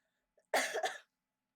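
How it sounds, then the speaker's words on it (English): A single young woman's cough, a short harsh burst with a second pulse, close and fairly loud, preceded by a faint breath and then silence. "I can't do that without coughing"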